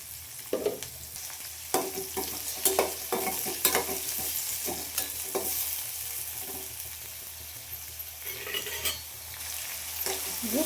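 Onion and tomato fry in a pan with garlic and curry leaves for a Karnataka-style avarekalu palya, a steady soft sizzle broken by repeated scraping stirs of a spatula against the pan, with no talk.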